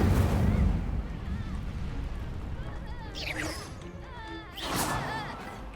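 An Incendio fire spell is cast in the Hogwarts Legacy video game during a duel, a burst of flame opening loud and fading, followed by whooshing, crackling magical sweeps.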